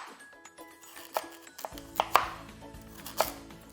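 Knife chopping vegetables for Korean braised chicken: a handful of faint, irregular taps on a cutting board, then a low kitchen hum with several sharper, brighter chops near the end, with no talking.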